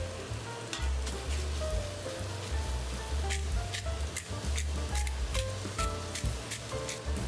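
Roughly 1 1/4 pounds of stew beef browns in oil with pepper for a beef barley soup, giving a steady, close, dense sizzle with scattered crackling pops throughout.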